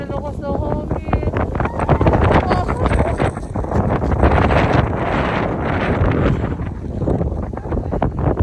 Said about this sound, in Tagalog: Grabe, lakas sa hangin.